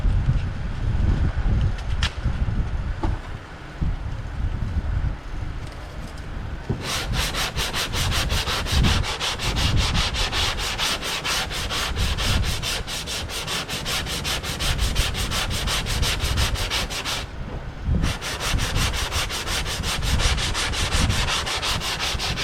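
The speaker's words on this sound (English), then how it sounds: "I'm just basically using good sharp sandpaper and just rubbing over it" Steady hand sanding of body filler with sharp sandpaper on a rubber sanding block, a continuous rasping rub that switches to quicker, rhythmic back-and-forth strokes midway, close and loud.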